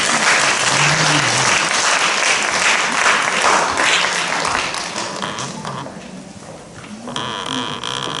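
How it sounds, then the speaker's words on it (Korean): Audience applause fills a live cafe during a Daegu literary society's book launch celebration, a steady dense clapping that holds loud for several seconds before thinning slightly, with a brief voice heard near the start. "따뜻한 박수 부탁드리겠습니다."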